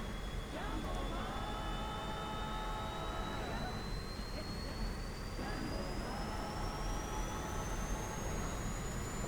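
The jet engine of an F-5E Tiger II in a flight simulator game spools up: a steady roar with a thin whine climbing slowly in pitch, with low voices now and then.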